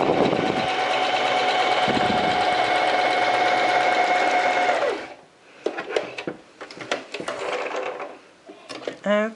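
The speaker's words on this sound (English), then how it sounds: "I say I'm going to sew straight from here until I get there." A sewing machine stitches darts into a basic skirt with a steady, close, continuous whir for about five seconds, then stops. Scattered clicks and fabric handling follow.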